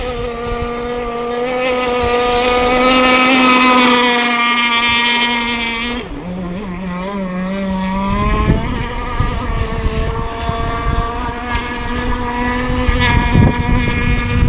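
A Zippkits SLR Thunderboat model boat motor drones steadily at close range on the water, its pitch dipping briefly midway before revving back up, with wind buffeting the microphone.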